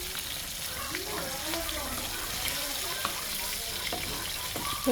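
Pangas fish frying in hot oil in a pan, with a steady, dense sizzling hiss that carries on at an even level for the whole stretch.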